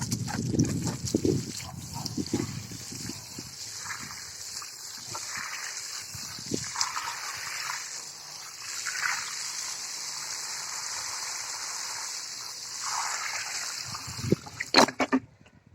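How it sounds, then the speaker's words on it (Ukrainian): Water pours and trickles steadily into a small trench of garden soil for most of the clip, a continuous wet splashing with some handling noise at the start and a clunk near the end. "Полити треба багато, щоб гарно воно було вологою."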